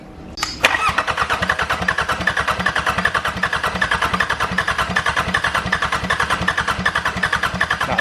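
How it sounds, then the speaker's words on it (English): A 34-year-old Sabb marine diesel aboard a sailboat cranks on its starter motor with a loud, steady, rapid chugging pulse that runs without a break after a brief click at the start. "Start there. Don't burn out the starter motor."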